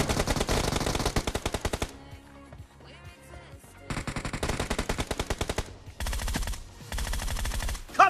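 Loud, rapid automatic gunfire in a 4v4 team deathmatch of the mobile shooter BGMI, fired in dense bursts with short pauses between volleys and a final sharp shot at the end.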